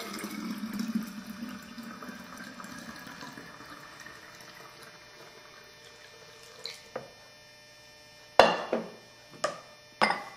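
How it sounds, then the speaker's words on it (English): Kombucha tea poured from a large container into smaller containers, a soft continuous trickle and splash of liquid, close and fairly quiet, followed by a few sharp knocks and clunks of containers. "pour the tea from the large container into the smaller containers."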